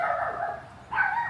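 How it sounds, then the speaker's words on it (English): Dogs bark outdoors on a frozen winter day, two tonal yelping barks separated by a short pause, fairly close and clear with no talking over them. "Oh my god, the dogs."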